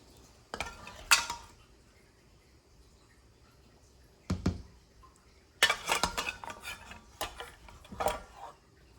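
Clinks and scrapes of a scoop against glass canning jars and a pot while topping off homemade blueberry jam, a few short bursts separated by quiet pauses, close by with no talk.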